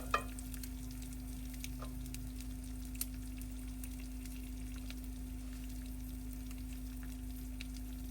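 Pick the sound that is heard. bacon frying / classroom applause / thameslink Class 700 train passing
bacon frying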